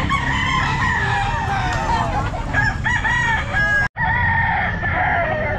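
Pumpkin gamefowl rooster crowing at a busy pet market, repeated loud crows and clucks from several birds over a dense crowd hum, with a brief dropout near the end.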